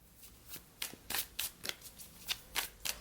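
Tarot cards riffled and shuffled by hand in a quiet room, a string of crisp papery bursts repeating every few tenths of a second, close and fairly soft, with no talking.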